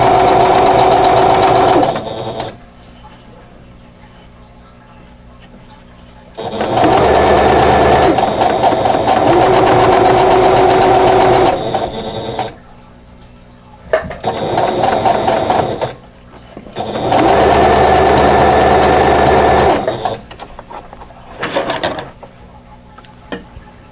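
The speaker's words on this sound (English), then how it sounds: "just going to sew this last seam" A domestic sewing machine stitches the final seam of a quilt block in three long, loud bursts of rapid mechanical whirring, with quiet pauses and a couple of short stitches between them.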